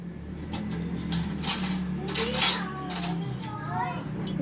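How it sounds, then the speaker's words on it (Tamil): Cinnamon and spices sautéing in a pan for prawn biryani, with metal utensil clinks and scraping over a soft sizzle, while voices, including a child's, talk in the background. "இப்போ வதக்கிக்கலாம்."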